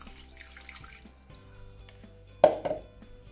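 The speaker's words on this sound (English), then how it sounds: "And then you want to fill this pan up with cold water." Cold tap water runs into a pan of potatoes in a kitchen sink, a quiet trickle that swells into a louder splashing gush near the end, close up.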